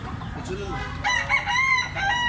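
A white hackle stag rooster of medium size with white legs crows at a poultry sale in Tabunok, Cebu, a single full cock-a-doodle-doo near and loud over rough background noise.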